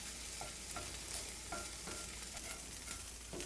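Onions and peppers fry in a pan with a soft, steady sizzle and periodic stirring clicks of a utensil, quiet and close with no talking.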